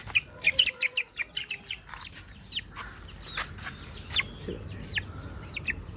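Parrot Beak Aseel chickens cluck and chirp in a rapid run of short calls, with soft clucking and scattered bird calls continuing over a low outdoor rumble.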